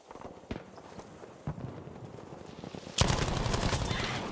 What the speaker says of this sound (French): Je tire sur un, je suis en train de défoncer la maison en même temps.